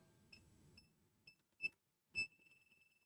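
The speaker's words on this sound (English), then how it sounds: "As you get nearer to something, again, the beeps are going to speed up." Handheld voltage detector held near an electrical cable, giving a few short, sharp high beeps at uneven intervals, fairly faint and close, with a quiet low hum between them.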